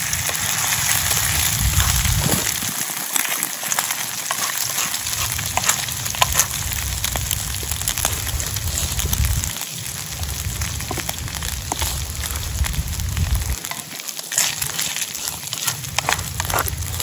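An egg frying in a pan for a Filipino breakfast, a steady loud sizzle and crackle that hisses continuously up close, with brief low thumps breaking through now and then.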